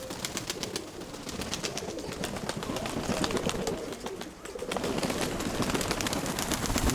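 Pigeons coo steadily through a dense wash of bird sound, with repeated soft calls throughout.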